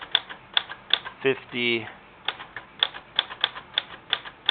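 A typewriter stencils amounts onto a check with a run of sharp mechanical key strikes at an uneven pace, close and clear. A brief ratcheting carriage sound comes partway through, and one short spoken phrase is heard.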